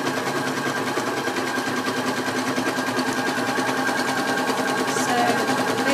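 A computerized embroidery machine stitches a design in a steady, fast mechanical whir with a constant rhythmic needle patter, close and even throughout.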